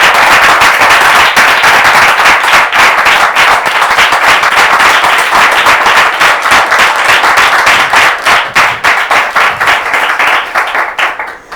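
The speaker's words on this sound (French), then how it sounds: "La production va la faire entrer sous vos applaudissements" Loud studio audience applause on a French television talk show, a dense, rapid roar of close clapping that holds strong for several seconds before individual claps thin out and taper off at the end.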